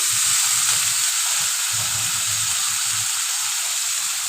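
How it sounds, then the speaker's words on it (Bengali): Shrimp and figs (dumur) fry in a pan, giving off a loud, steady, close sizzle with a constant hiss and faint scraping stirs underneath, no voices. "এখন আমি চিংড়ি মাছটা আর ডুমুরটা দিয়ে দেবো। দিয়ে আমি ভালো করে কষিয়ে নেব।"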